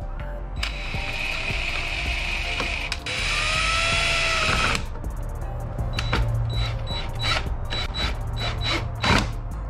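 Bolts on a carbon fiber splitter on a widebody Dodge Charger Scat Pack are tightened with a power tool: two sustained whirring bursts, close and fairly loud, then scattered clicks and rattles.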